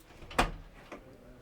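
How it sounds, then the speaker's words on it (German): A toilet door in a 2021 Bürstner Lyseo TD 644 G motorhome swings shut with one sharp, close knock, and a fainter second click follows a moment later. "Und man kann sogar noch eine Tür zumachen."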